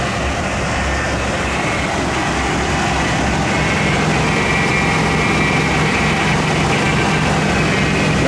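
Steady idle of the 5.8-liter engine in a 1996 Ford Club Wagon Super E350 XLT van, a continuous low rumble with broadband noise, even and unbroken with no talking.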